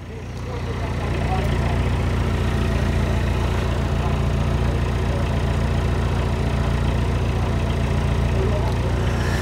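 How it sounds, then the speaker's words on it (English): A low, steady boat engine idles throughout, a continuous rumbling drone that rises slightly at the start and then holds level. "we got a boat coming"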